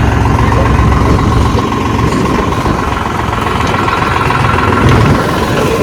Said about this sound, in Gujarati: અમારા બાપા અત્યારે ચાલુ કરે છે ટ્રેક્ટર